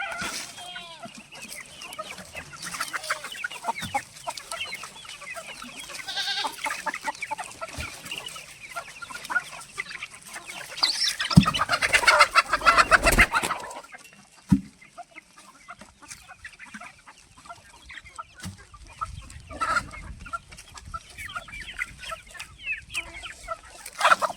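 Chickens cluck steadily throughout, several birds close by, with a louder burst of fowl activity partway through and a rooster crowing faintly at times.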